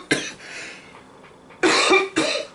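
A woman coughs in two loud, close bursts after a short, fainter cough, with a quiet room behind her.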